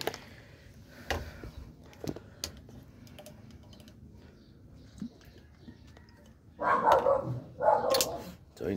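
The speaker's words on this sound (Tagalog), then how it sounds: "So ayun, tumawal pa yung aso." A few sharp barks ring out near the end, about a second apart, after a quiet stretch with light clicks and tapping.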